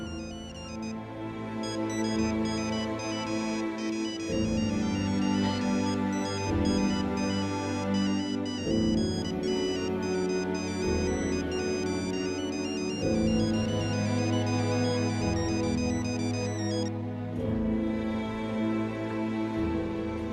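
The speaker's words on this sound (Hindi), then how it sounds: "फिर से फोन बज रहा है।" A phone ringtone plays continuously, a bright repeating electronic melody looping several times without pause, loud and close with no one speaking.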